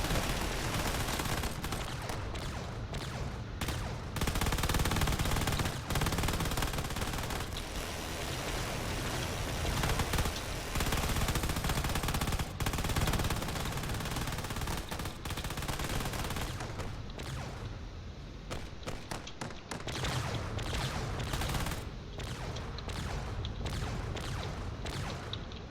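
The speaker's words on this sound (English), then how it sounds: "Don't know if that cruiser is going to be able to last that long, but it's firing whatever it has" Sustained, dense barrage of gunfire from a cruiser in a Drone Wars space battle, with loud continuous volleys and bursts running through the whole stretch and brief dips in between.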